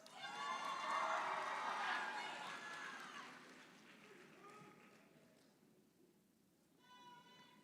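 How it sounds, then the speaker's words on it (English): Crowd applause at the 2019 Sussex Tech graduation ceremony rises into a broad wash of clapping and cheering, then fades to scattered claps before a smaller burst returns. "a little louder on that applause there, please"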